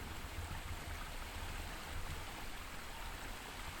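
A backyard pond waterfall pours steadily, giving an even, continuous rush of falling water with no talk.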